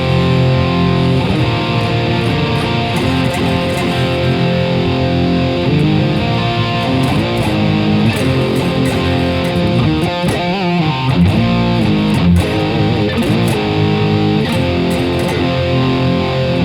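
Heavily distorted electric guitar tuned down to drop F on a Lotus Mini, playing dense sustained chords and riffs continuously for the whole stretch, loud and full with no talking over it.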